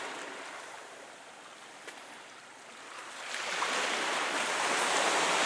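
Surf washes onto Fujairah beach at sunrise, a steady broadband rush that swells louder and brighter partway through as a wave breaks nearer, with no voices.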